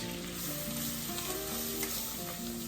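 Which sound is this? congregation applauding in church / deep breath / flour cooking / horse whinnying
flour cooking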